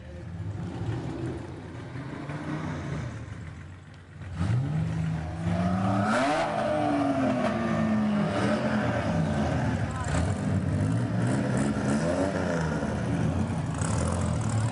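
Classic cars from a car club roll past in a parade, a steady engine rumble and whir filling the scene, with people talking over it.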